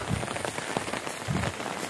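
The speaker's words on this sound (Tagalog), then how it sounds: "Grabe ang ulan guys." Heavy rain pours down in a dense, continuous hiss of drops striking a surface, with no talk.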